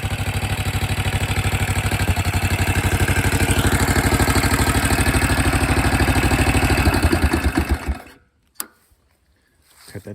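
A BSA B44 441 motorcycle engine idles loudly and close by in a shop with a steady rapid thumping, then it is cut off, leaving a few faint clunks.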